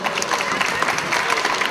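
A gala audience at a voice academy concert bursts into brisk applause, a dense crackle of many hands clapping at once, loud and close for a brief moment.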